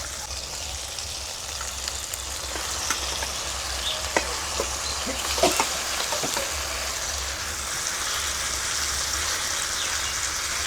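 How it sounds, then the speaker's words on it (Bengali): Raw marinated fish stirred in a pan over heat with tomato and onion: a continuous sizzle runs throughout, with scattered spatula scrapes and clicks near the middle. "এই মাছটা কাঁচা অবস্থায় একটু খুন্তি দিয়ে ভালো করে নেড়ে চেড়ে নিতে হবে।"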